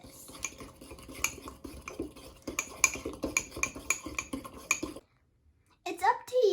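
A spoon stirs Nutella into mug brownie batter in a microwave mug, clinking rhythmically against the sides in quick repeated taps before stopping; a voice speaks briefly afterward.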